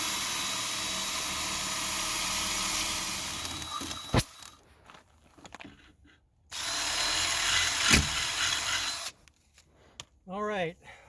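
Power drill boring holes through the heavy-duty metal frame of a trailer fitted with a Dexter Torflex axle, with long loud stretches of grinding drill noise broken by quieter pauses and a few sharp clanks.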